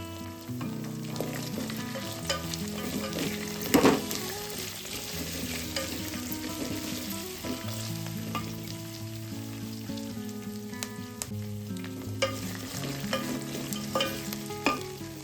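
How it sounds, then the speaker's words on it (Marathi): Green peas tipped into a hot frying pan for a pulao, sizzling steadily while a spoon stirs and scrapes the pan, with a few sharper clinks, close and without talk. "त्यात आपण 1 वाटी वाटाणा टाकूया."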